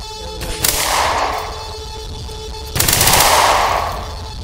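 Rapid automatic gunfire from a video game rattles in two loud, close bursts, each trailing off into a fading roar, with no one talking.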